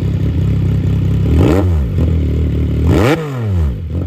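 A CFMOTO 675NK with catalytic converter removed and aftermarket Austin Racing exhaust idles loudly close by, then is revved twice in quick blips, each rising to a roar and dropping back to a rumbling idle.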